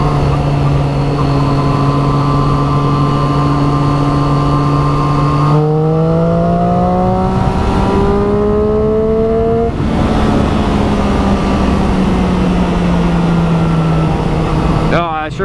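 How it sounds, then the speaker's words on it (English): A Triumph Street Triple 675R motorcycle engine droning steadily while riding, its pitch rising and falling with throttle and gear changes, loud and close under wind rush. "I sure hope that the audio is picking up the bike, because it sounds money."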